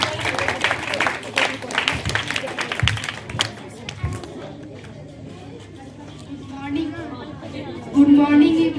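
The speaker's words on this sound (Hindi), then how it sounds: "साजिया परवीन, इस बच्ची के लिए जोरदार तालियां।" Audience applause for a student called up at a school debate competition, a burst of clapping over crowd chatter that fades out, followed by quieter murmurs.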